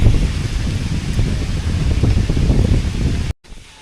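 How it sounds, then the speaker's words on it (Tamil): Strong wind gusts roar continuously through a reserve forest where elephants roam, buffeting the microphone with dense low rumble and rustle, then cutting off abruptly near the end to a quieter wash. "காற்று பயங்கரமாக இருக்குது."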